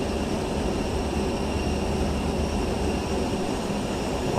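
Airplane engine drone in Microsoft Flight Simulator 24, a steady loud continuous hum with an even broadband roar and no talking.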